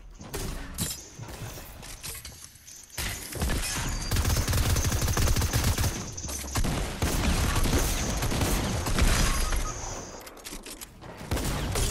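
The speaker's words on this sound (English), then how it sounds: "No, he's shooting me through the build." Dense, continuous gunfire from a Fortnite match fills the stretch, with shots and crashing impacts against player-built structures layered over a busy game mix and no clear talk.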